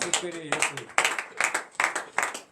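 Rhythmic group clapping in acclamation during a morning prayer gathering, sharp bursts falling in a regular beat of roughly two claps per second, with a voice singing or speaking at the start.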